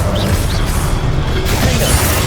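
Confringo and Incendio spell blasts in the Hogwarts Legacy video game, a continuous loud barrage of crashing, whooshing magical impacts with heavy low rumble and no pause, dense and close throughout the short burst.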